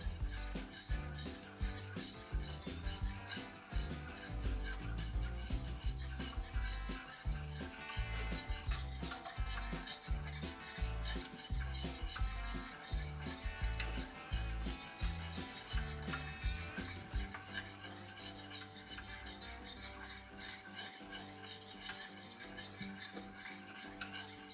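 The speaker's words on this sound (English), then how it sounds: "And we stir and pay attention to the stirring this time." Passion fruit pie filling is stirred in a pot on a stovetop burner, a continuous rhythmic scraping and rubbing of utensil against the pot, close and steady with no talking.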